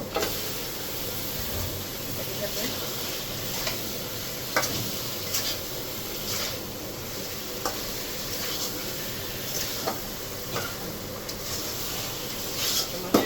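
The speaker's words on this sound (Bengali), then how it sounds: "এখানে আমি এই যে মাছগুলো দিয়ে দিব" Hilsa fish hits hot oil in a pan and sizzles steadily, a close crackling hiss that runs the whole time, with faint ticks and stirring taps and no talk.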